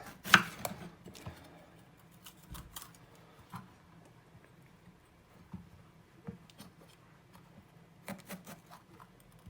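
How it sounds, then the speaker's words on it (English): Knife slicing vegetables into strips on a cutting board during freezer prep, heard as quiet, irregular taps and chops spread across the clip against a soft background. "And then just cut it into strips like that."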